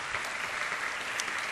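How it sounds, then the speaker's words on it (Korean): A church congregation applauds as a family is called to the front: continuous, even clapping at moderate volume from many hands, with no talk over it. "우리 박수 한번 하겠습니다"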